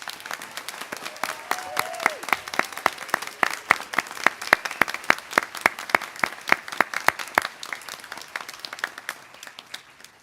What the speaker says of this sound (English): I'd like to invite everyone to give a special round of applause to all our graduates